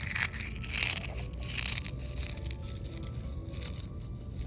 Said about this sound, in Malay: gunakan kulit telur ni okay. Hancurkan di sekeliling pokok ni